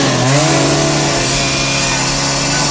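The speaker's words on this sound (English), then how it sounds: "And why does he need to cut a wire before Carl chainsaws them?" A chainsaw from the movie Die Hard roars at full throttle, very loud and close, a steady buzzing whine that holds throughout with a slight pitch shift at the start and no talk.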